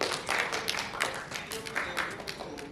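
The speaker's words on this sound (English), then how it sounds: "can we have a round of applause please for Prof." Audience at an academic conference breakout session giving a speaker a round of applause, a fairly faint, steady patter of clapping hands across the room that tapers off.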